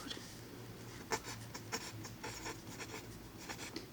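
A pen scratches across a medical intake form up close, soft uneven strokes and small taps of the tip in a quiet room.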